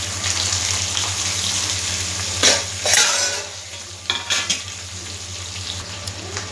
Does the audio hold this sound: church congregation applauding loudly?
no